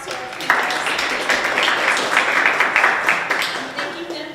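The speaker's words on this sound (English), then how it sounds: "let's just give a round of applause to our panelists" An audience gives loud, sustained applause to panelists at a university global affairs panel discussion, with dense clapping building after a brief start and continuing evenly throughout.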